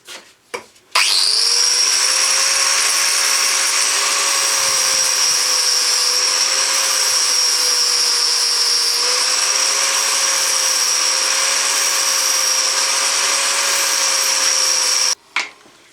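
A grinding disc cleaning a nasty burr off a metal bash plate for a Triumph motorcycle, a loud steady high whine held for about fourteen seconds after a brief spin-up, ending abruptly.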